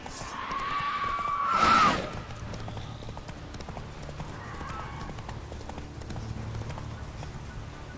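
Roach the horse in The Witcher 3, giving a sharp whinny early on, then a steady run of galloping hoofbeats at moderate loudness.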